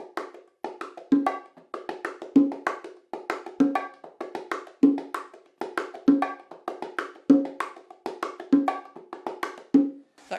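Bongos play a martillo pattern with an open-tone accent struck by the left hand, the anticipated last sixteenth of each bar landing on the high open note. Steady, close, crisp hand strikes repeat in an even rhythm with no one speaking.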